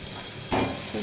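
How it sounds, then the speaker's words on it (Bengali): Onions fry in a pan, starting with a faint background hiss and then bursting into a sharp, loud sizzle as they are stirred midway. The sizzle settles back to a steady crackle. "পেঁয়াজটা ভাজা ভাজা হয়ে গেছে"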